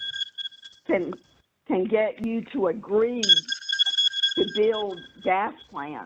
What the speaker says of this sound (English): I guess that's the alarm.